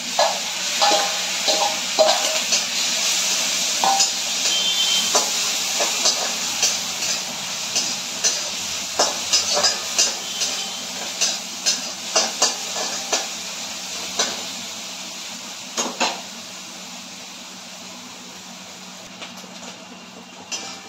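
Onion and garlic fry in butter in a pan, giving a loud steady sizzle broken by repeated scraping stirs, with no talking.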